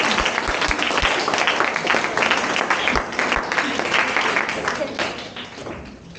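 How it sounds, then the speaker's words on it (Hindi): Applause from workshop participants at an AI workshop, a dense burst of many hands clapping across the room with a few sharper claps, loud and steady before tapering off near the end. "एक बार सबके लिए तालियां बजा दो"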